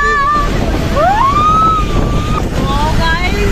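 A river rushes loudly during heavy rain on a Shiv Khori pilgrimage trip, a thick, constant roar with thin rising and falling whistle-like tones drifting over it.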